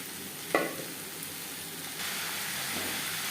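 Snake gourd frying with browned onions in a pan gives a steady, close hiss of sizzling oil, with one sharp burst early on as the food goes in, and no talking.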